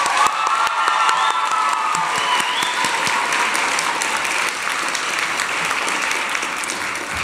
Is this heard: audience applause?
yes